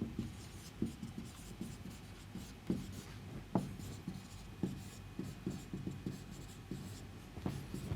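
Pen or chalk writing by hand during a cryptography lecture, steady scratchy strokes with periodic taps, fairly faint and close, no talking.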